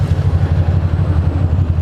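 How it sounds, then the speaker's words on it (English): A motorcycle engine idles with a steady low rumble and slight irregular chugging as it stalls, close by and fairly loud, with no voices. "I just stalled out my motorcycle"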